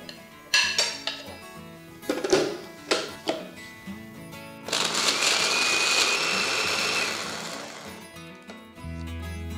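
In a kitchen mixer, fried cashews, almonds, poppy seeds, coconut and sesame are ground to powder: several sharp clattering knocks from the jar come first, then a loud, continuous whirring grind for about four seconds before the motor cuts off.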